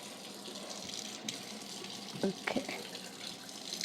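Water splashes and hisses briefly on a hot griddle being readied for millet dosa in a home kitchen, a soft steady wash with a few sharper spatters, fairly faint, and a voice speaks briefly.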